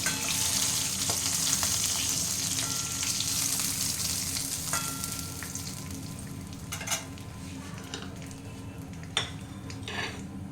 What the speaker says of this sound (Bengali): এটা এরকম 2 মিনিট মতো ভেজে নেব। তো মোটামুটি আমার মাছ ভাজা রেডি।